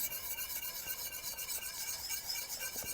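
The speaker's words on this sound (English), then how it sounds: "So keep whisking that through." A whisk works polenta in a pot over a gentle simmer, giving a steady, faint rhythmic scraping and rasping that continues throughout with no talk.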